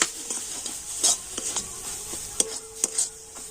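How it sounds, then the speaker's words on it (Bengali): Spices being stir-fried with gram flour (besan) in a pan, giving a soft continuous sizzle broken by light scraping and clicking taps of a spoon against the metal, steady and close with no talking. "তো বেসনটা দিয়ে আবারও সমস্ত কিছু একটু কষে নেব।"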